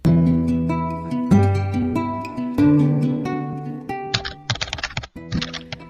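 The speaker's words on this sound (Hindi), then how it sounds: "टाइपराइटर के बटन दबने की आवाज सुनाई दे रही थी" Keys on a white typewriter in a closed room clatter in quick, uneven bursts, following sustained ringing musical tones that fill the first part.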